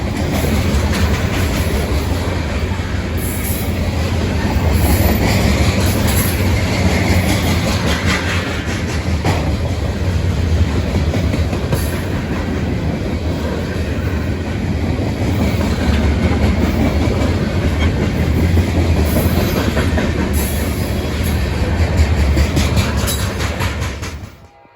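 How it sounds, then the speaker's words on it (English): A CSX freight train led by GP38-2 diesel locomotive 2697 rolls past southbound, a loud continuous rumble with rhythmic wheel clatter that holds steady for the full stretch and then cuts off. "L22904 goes southbound with CSX GP38-2 number 2697 leading."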